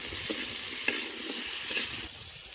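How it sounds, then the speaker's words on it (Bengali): Chandramukhi potatoes sizzle in hot oil in a pan with salt and turmeric, a constant soft frying hiss with a few light stirring clinks, close and unaccompanied by talk. "আলুগুলো ভাজা হোক"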